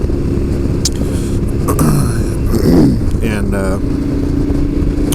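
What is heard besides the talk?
KTM 1290 Super Adventure motorcycle engine while riding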